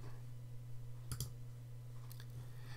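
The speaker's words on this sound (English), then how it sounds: "you can just pick from a range of colors by just clicking" A few faint, sharp computer mouse clicks, a double click near the middle and another later, over a low steady electrical hum in a quiet room.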